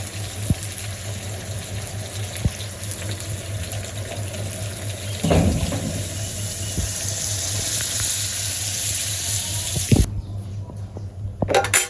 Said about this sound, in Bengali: মাংস কষানো হয়ে গেছে জল দিয়ে দিব